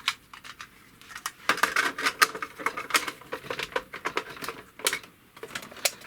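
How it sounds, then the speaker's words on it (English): A small memory card is pushed into a Kung Fu Flash cartridge for a Commodore 64, with a rapid series of close, light plastic clicks and taps amid handling. "Pop a little memory card in."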